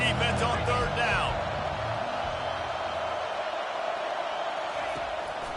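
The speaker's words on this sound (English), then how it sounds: "Decibels rising as the crowd gets behind this defense on third down." A stadium crowd at an Alabama college football game keeps up a steady, swelling roar behind the defense on third down, while a commentator talks over the noise.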